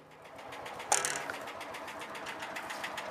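A John Deere Gator utility vehicle's engine idles at a steady putter, fairly quiet and even, with one brief louder clunk near the start.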